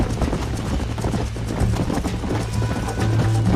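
A horse gallops in Red Dead Redemption, its hooves drumming in a steady, close clip-clop rhythm, fairly loud and without any talk.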